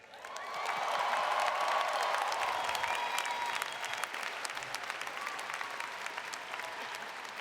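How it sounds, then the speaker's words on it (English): A large graduation crowd of science students at a spring commencement applauds and cheers, a dense wash of clapping that swells quickly, peaks, then tapers gradually while continuing. "please give a big cheer"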